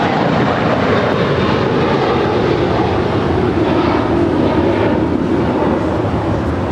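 A JetBlue Airbus A321 taking off at LAX for Fort Lauderdale, a loud, continuous jet engine roar that stays steady throughout with no speech over it.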